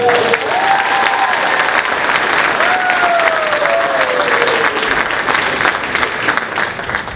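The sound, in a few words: audience applause for Melina at chorus concert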